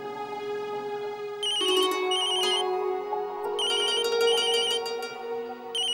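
A telephone rings in a quiet room, an electronic ringtone repeating in bursts of bright tones over a soft sustained musical background, with no talking.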